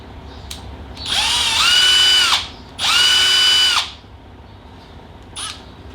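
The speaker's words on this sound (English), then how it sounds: "So I can use my little drill for this." A small power drill whirs in two bursts of about a second each, with a brief higher whine near the end and quiet background between.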